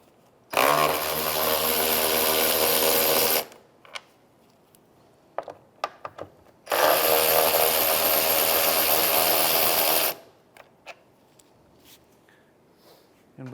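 A power tool backs out two 10mm bolts holding the fan and overflow assembly on a 2011-2016 Hyundai Elantra radiator, with two loud whirring bursts of about three seconds each separated by light clinks and handling noises.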